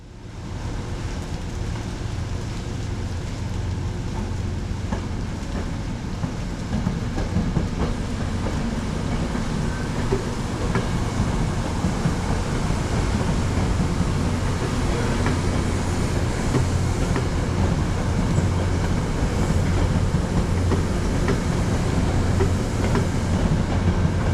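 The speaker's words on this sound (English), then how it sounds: "one more Metro North train to clear in the form of train 1897, which is seen coming off the Danbury branch westbound onto track 3" Metro North train 1897, hauled by an MTA locomotive, rolls westbound off the Danbury branch onto track 3 past the SoNo Switch Tower in wet weather, a steady continuous rumble with wheel clatter and rain hiss throughout, no voices.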